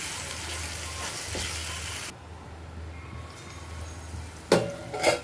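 A tomato masala seasoned with turmeric and salt sizzles and fries in a pan for paneer curry, a steady crackling hiss that drops briefly, then returns with a couple of louder stirring bursts.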